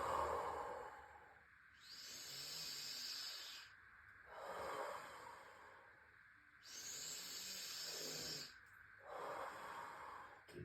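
Slow, airy exhales of breath during pelvic floor core exercise, close and soft, coming in long drawn-out waves with pauses between them.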